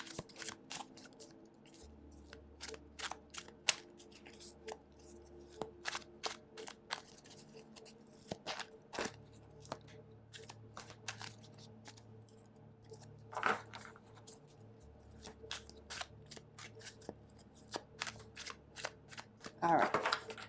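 A Mystical Mondays tarot deck is shuffled by hand, giving a steady run of soft, close riffling card flicks and taps that stays quiet and continuous throughout.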